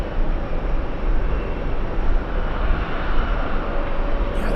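A KLM airliner passes at JFK airport, a steady broad roar holding loud and even throughout, with wind rushing over it.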